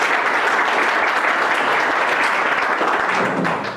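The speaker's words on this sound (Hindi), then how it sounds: "चलिए एक बार अपने लिए जोरदार ताली बजाएं।" A seminar audience at a wellness company event applauds loudly, a dense, steady roar of many clapping hands that holds for the whole stretch before tapering slightly at the end.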